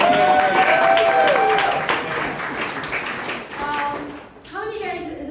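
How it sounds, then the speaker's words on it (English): An audience at a Chicago VR meetup claps, a steady wash of applause lasting several seconds. Voices and murmurs run over and under it as it tapers into scattered claps. "Let's clap for that."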